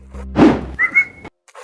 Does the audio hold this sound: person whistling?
yes